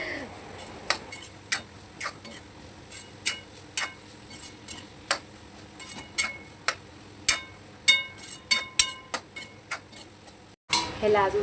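Cauliflower sabzi cooking in a pan, with a soft sizzle underneath a run of sharp, regular ticking clicks from the pan or lid; a brief cut near the end leads into louder sizzling.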